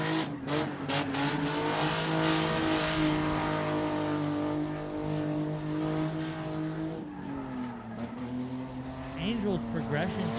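A drift car on the track at Willow Springs, California, during Ultimate Drifting Challenge qualifying, launches into a full-speed initiation without the handbrake, its engine screaming at high, sustained revs with shifting pitch and tire noise, under steady commentary.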